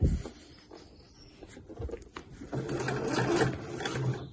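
A sewing machine stitching a slouch bag during finishing, running in bursts that build to a steady, loud whirring run with mechanical clatter, alone without talk.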